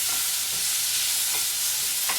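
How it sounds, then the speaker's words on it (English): Onions and aromatics are stirred through hot meat in a frying pan, a steady broadband sizzle broken by a few scraping stir strokes, close and fairly loud with no talking. "Let's give that a stir"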